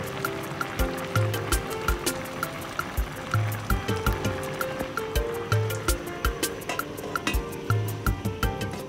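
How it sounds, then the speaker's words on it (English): White, kidney and honey beans with a Knorr cube boiling in a pot. Steady bubbling and gurgling goes on throughout, with rhythmic popping bursts, close and moderately loud, and no voices over it. "Allow it to boil for some minutes again."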